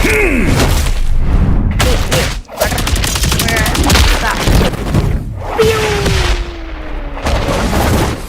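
Video game battlefield gunfire: loud, close, rapid automatic bursts and fusillades with heavy thuds, broken by short pauses, with a player's voice heard among the shots.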